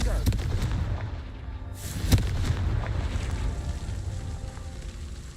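A Confringo spell blast in the video game Hogwarts Legacy, heard as a few booming thumps over a rumbling background, with one sharper explosive hit near the middle.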